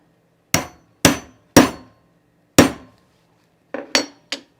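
Spring snaps being hammered onto a sewn men's utility jacket: seven sharp metallic hammer strikes, four spaced about half a second apart, then a pause and three quicker blows, close and loud in a quiet room.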